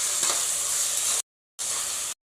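Beef pepper fry masala with curry leaves is stirred in a hot pan, a loud close hissing sizzle that runs for over a second, cuts out, then returns briefly before stopping.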